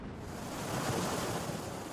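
Ocean waves around Pitcairn Island wash in a steady, broad surf roar, with wind adding a hiss. Nothing else can be heard, and the sound holds at a moderate level, swelling slightly midway.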